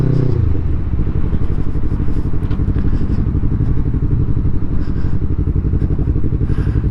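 Yamaha MT-03 motorcycle ridden along a road, its engine droning steadily and loudly with a dense, continuous rumble throughout, plus faint wind and rattle.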